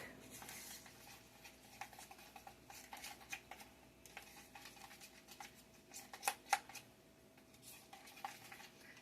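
Sweet relish sauce being stirred in a bowl, a steady run of soft scraping and clinking of a utensil against the sides, with a few sharper taps near the end, fairly quiet and close.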